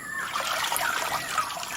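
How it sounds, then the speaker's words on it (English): Slaughtered chickens dipped into water in a rural Papua New Guinea setting, heard as a steady close trickle and light splashing of liquid with no voices. "dipping them in water"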